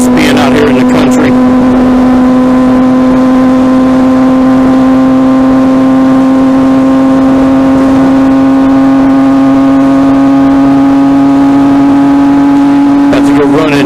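A motorcycle engine drones at a steady, loud, unchanging pitch while riding on a country road, close and continuous, with brief wind buffeting at the start and end.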